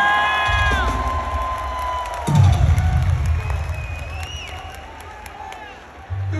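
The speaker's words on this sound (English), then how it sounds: "Give this man a round of applause" A large concert crowd at Peoria Civic Center cheers, whoops and shouts loudly, the roar swelling midway and continuing throughout.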